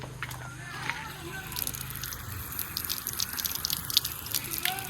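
Running tap water splashes and drips over a fresh homegrown tomato being rinsed by hand, a light, fairly faint trickle and slosh with a few brief voices mixed in.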